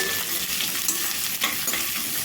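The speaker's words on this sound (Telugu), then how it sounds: "ఉల్లిపాయ ముక్కలు బాగా వేగాల్సిన అవసరం అయితే లేదండి" Chopped onions sizzle and fry in a hot pan while being stirred, a steady close crackling hiss with soft scraping strokes throughout, no voices.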